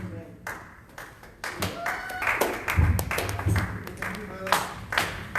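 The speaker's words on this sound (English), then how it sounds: "Are we clapping for Jesus?" Worshippers in a church congregation clap along during a service, uneven bursts of hand claps rising and falling with voices and music underneath.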